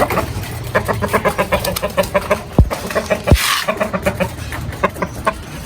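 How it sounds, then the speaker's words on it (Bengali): A flock of adult Sultan breed chickens clucks and calls nearby in rapid, repeated bursts, with one or two sharp cries rising above the steady chatter of fowl. "তো আমরা সুলতান ফুল অ্যাডাল্ট মুরগা।"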